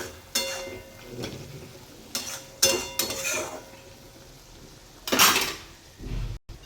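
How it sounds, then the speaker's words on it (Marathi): Methi dal being stirred and sautéed with salt in a pan, with a spoon scraping and clinking against the metal in several short bursts separated by quieter pauses, close and fairly loud. "मीठ यातच छान असे परतवून घ्यायचे आहे"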